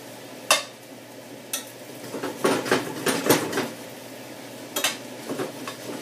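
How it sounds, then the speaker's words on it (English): Spoon scrapes and clicks of homemade croutons being tossed with olive oil, butter and garlic in a pan, a few sharp knocks followed by a run of irregular stirring strokes, close and fairly quiet. "Stir them up, get them coated with the olive oil and that butter."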